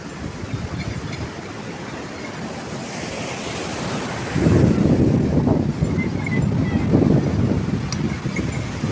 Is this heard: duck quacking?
no